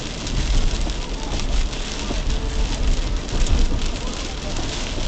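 Heavy typhoon rain pounding a car while driving southbound on the SLEX expressway, a dense, loud, continuous wash of drops with low road rumble underneath.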